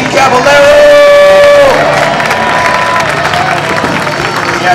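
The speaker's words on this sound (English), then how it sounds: "How about a huge round of applause for living legend Steve Caballero?" A loud crowd roars, cheers and whoops with scattered clapping at an X Games skateboarding legends demo, welcoming skateboarder Steve Caballero, with a sustained shout rising above the dense noise.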